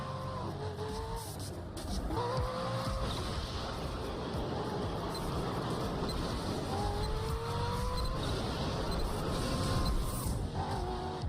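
High-speed performance car driven in The Crew racing game, its engine droning steadily throughout with rising and falling pitch through gear shifts, loud and close with no talk.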